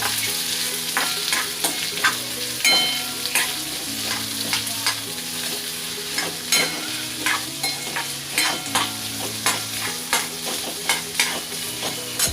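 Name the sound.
onion, bay leaves and cardamom sautéing in pan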